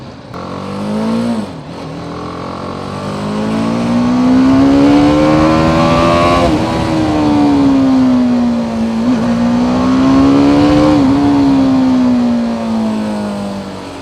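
A BMW G 310 GS motorcycle engine drones loud and close while riding. Its pitch rises and falls smoothly with throttle changes, with no voices.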